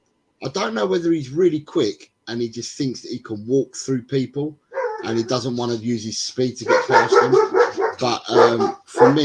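A dog barks in the background while someone talks continuously over it, the barking faint and partly masked.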